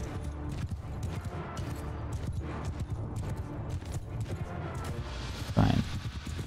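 Cavalry riding in Mount & Blade II: Bannerlord, a busy patter of many hooves clip-clopping at moderate distance under battle noise, steady throughout with a brief louder thump near the end.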